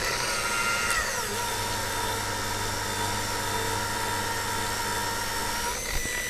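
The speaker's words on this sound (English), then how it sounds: "Now by polishing we'll check for the result for the headlight" A polishing machine buffs a car headlight during restoration, a steady whirring power-tool drone with a brief pitch sweep near the start and a small knock near the end, no speech.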